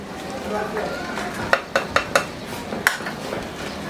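A metal spatula stirs chopped green and red chillies into chicken fried rice in a hot pan, a series of sharp scraping clinks over a soft sizzle, fairly close and moderately loud.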